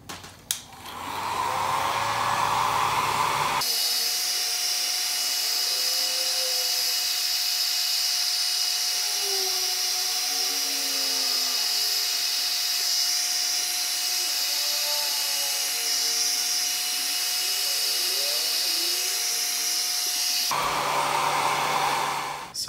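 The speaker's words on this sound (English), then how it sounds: "All right, now let's try the hairdryer." Hair dryer blowing on liquid dye applied to a guitar fretboard's markers, switched on after a few seconds and running loud with a steady whine for about seventeen seconds before cutting off, with faint handling sounds either side.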